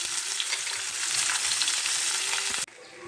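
Pointed gourd fries in oil with only salt, a loud, steady crackling sizzle with occasional stirring scrapes that cuts off abruptly near the end.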